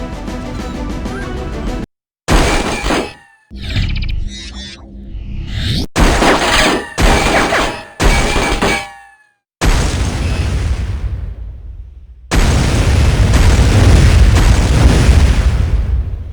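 A video game shotgun fires in a rapid series of loud, booming blasts, each cut short by brief silences, with a sustained heavy roar toward the end.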